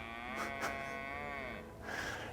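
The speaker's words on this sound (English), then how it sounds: "If you can hear that cow." A cow lows nearby in an English countryside field, two long drawn-out moos separated by a short pause, clear and alone with no talking.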